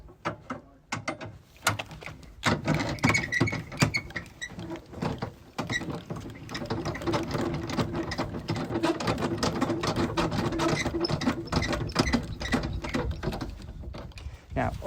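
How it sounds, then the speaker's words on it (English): Rapid ratcheting clicks and scraping rattles as the legs of a Pennine Fiesta trailer tent are wound down with a hand winder, close and irregular in bursts that turn to a steadier whirring patter. "So now it's level, we can wind down the legs."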